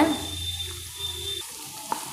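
Beans and carrots being stir-fried in a pan for a Tamil mixed-vegetable poriyal, giving a steady, close sizzle with soft stirring scrapes and a small clink near the end, no talking.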